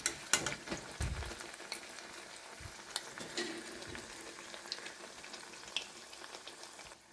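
Brinjal bajji fritters deep-frying in hot oil, a steady close crackling sizzle with scattered sharp pops and a few clinks of a turning utensil early on.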